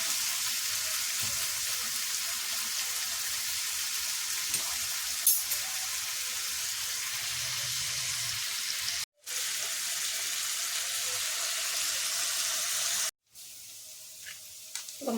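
Onions fry in a pan with a steady, soft sizzling hiss, broken by two brief silent cuts, with a light clink near the end and no speech.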